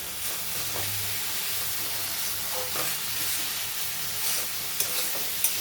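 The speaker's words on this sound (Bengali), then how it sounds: "পেস্ট করার সঙ্গে যে টমেটো দিয়েছিলাম এই একসঙ্গে মশলার সঙ্গে আমি ভালো করে কষে নিচ্ছি।" A tomato and spice paste being sautéed in a pan for a snail curry, giving a steady hissing sizzle with occasional stirring sounds and a couple of sharp clicks near the end.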